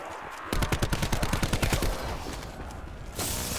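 Rapid automatic gunfire in a zombies shooter game, a loud, evenly spaced burst of close shots lasting over a second, then ringing game noise and a louder roar toward the end.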